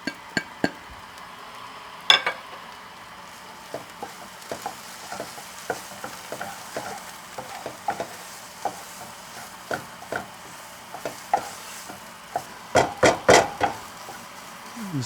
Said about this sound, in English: All right, now start, sizzling.